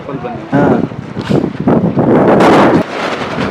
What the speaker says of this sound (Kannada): ಫುಲ್ ಗಾಳಿ ಐತಿ ಮಳೆ ಐತಿ